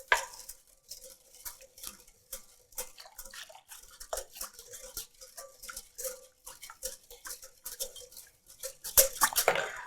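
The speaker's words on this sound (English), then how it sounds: "With our whisk, whisking constantly to keep it moving, we're just going to add this a ladle at a time" A whisk clatters quickly against a bowl while beating an egg mixture for eggnog, a busy rhythmic ticking and scraping that carries on throughout and grows louder and denser near the end.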